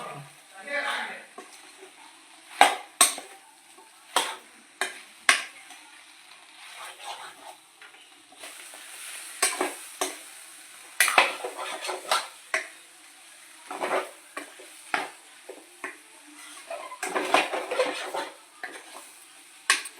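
A spoon scrapes and clatters through chicken masala gravy in a metal pan, with irregular knocks and scrapes over a soft sizzle and a voice talking in between.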